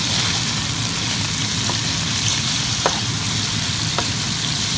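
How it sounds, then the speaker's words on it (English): Pork tenderloin sautés in olive oil in a pan, producing a steady, close sizzle with occasional light clicks as the meat is moved around. "put our meat in. Saute it halfway through."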